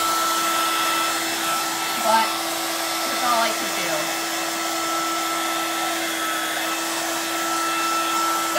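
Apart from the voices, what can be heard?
hair dryer blowing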